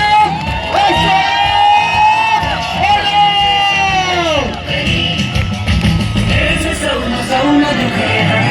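A crowd cheers, whoops and yells for the champion team after a women's cricket tournament, loud and close throughout, with voices shouting over the noise.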